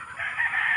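A rooster lets out a short, clear crow close by, with farmyard chickens in a garden planted with chili.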